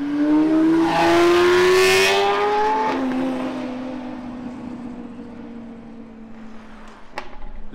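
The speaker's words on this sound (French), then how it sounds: "il y a une Ferrari Koenig là" A Ferrari Koenig drives past on a street in Japan: a loud engine note falls in pitch as the car goes by, then fades into distant traffic noise.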